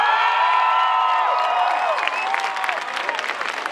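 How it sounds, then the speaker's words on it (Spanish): A concert audience in central Guadalajara, Mexico, applauding a trumpeter at a show, with sustained crowd clapping mixed with whistles and cheering voices. "Ha venido en la trompeta, a quien pido un fuerte aplauso"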